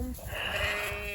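A Katahdin lamb gives a single drawn-out bleat, loud and close.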